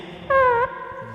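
A voice imitates a small fart with a short, high, buzzing squeak that lasts about a third of a second, clear and close.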